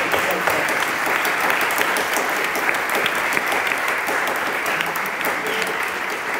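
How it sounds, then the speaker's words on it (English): Sustained applause from a congregation at a Sunday morning worship service, a dense steady patter of clapping that holds at an even level throughout. "Can we applaud?"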